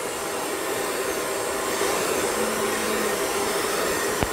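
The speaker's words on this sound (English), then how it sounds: "what I'm going to do is blow around on the low setting and the cold setting" Hair dryer on its low, cold setting blowing across wet poured acrylic paint: a steady, continuous airy whoosh with no speech, ending in a faint click.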